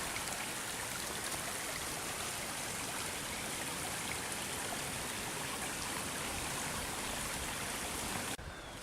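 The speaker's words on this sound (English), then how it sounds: "so the runoff creek is running pretty good." A runoff creek swollen after heavy overnight rain rushes past, a steady broadband wash of flowing water heard close and continuous with no talk.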